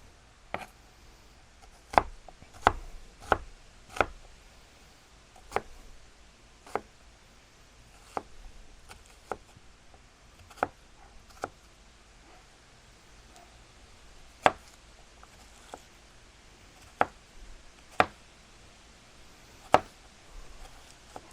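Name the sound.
knife chopping onion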